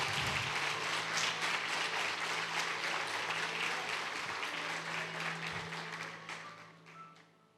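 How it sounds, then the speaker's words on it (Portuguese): A church congregation applauds during a Quadrangular worship service, a dense, steady wash of many hands clapping at close range that thins and fades away in the last second or two. "Glória a Deus, aplaude mesmo."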